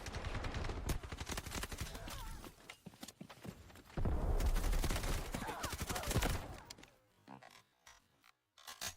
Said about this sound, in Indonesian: Senjata menembak pinggang vs senjata dengan kendali rendah dan bidikan terbuka.